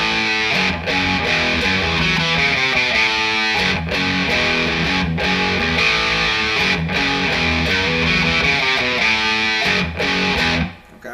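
A distorted electric guitar plays the verse riff of a song: dense, chunky chords in a driving repeated rhythm with brief breaks, loud, close and continuous with no voices.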